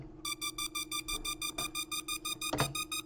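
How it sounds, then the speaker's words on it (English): A synth super saw pulses in rapid, even rhythmic bursts over a steady low drone while its pitch slowly creeps upward, with a sharp transient near the end. "Super saw slowly increasing in pitch."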